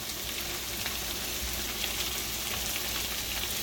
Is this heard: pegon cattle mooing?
no